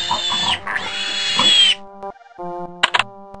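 A cartoonish pig squeals and oinks in two loud bursts in the MS-DOS game Kids Zoo: A Baby Animal Adventure, followed by a few short electronic chime tones and a quick blip.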